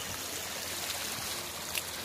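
Rainwater spills over a sturdy earthen bund between flooded fields in the Konkan monsoon, a quiet, steady trickle and gurgle heard up close, soft and unbroken.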